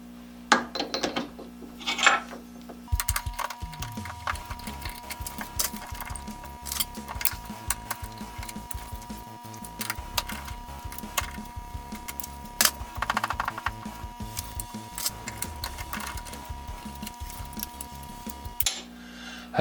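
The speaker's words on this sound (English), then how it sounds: "I started working on this side, just doing a little bit of wire brushing" Hand wire brushing of a metal reamer in a workshop, a close series of scratchy metallic scrubbing strokes and light clinks, irregular in rhythm, with a faint machine hum behind and no talking.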